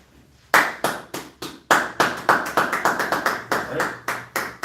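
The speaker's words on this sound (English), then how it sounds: "Go ahead and clap it up." A congregation at a Sabbath church service claps in rhythm, sharp close claps in an uneven, quickening pattern with no talking over them.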